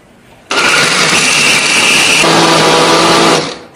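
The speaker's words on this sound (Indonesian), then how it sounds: "di sini aku menghaluskannya menggunakan blender" A kitchen blender grinds cooked spices for a cow-trotter (kikil) dish, a loud continuous whirring roar that shifts to a lower, steadier tone partway through before cutting off, with no voices.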